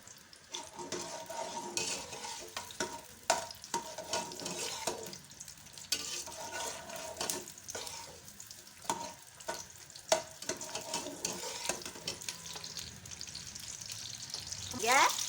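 Chopped onion fries in hot oil in a karahi pan for a desi chicken dish, with a dense, steady sizzle broken by frequent spatula scrapes and metallic knocks throughout.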